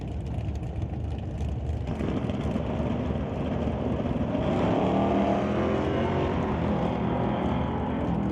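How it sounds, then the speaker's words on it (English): Drag racing cars, a Chevy Malibu and a Chevy S10, launching and running down a quarter-mile strip, heard as a loud continuous engine roar with a wind-like rush that swells slightly midway. "Martin Rochelle will bring up the Chevy Malibu down to 1007, racing John Tabak in the S10 down to 1033"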